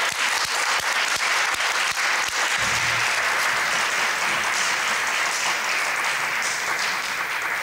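Sustained audience applause for teachers and school administrators at a small community gathering about public school funding, dense and steady clapping throughout with no talking over it.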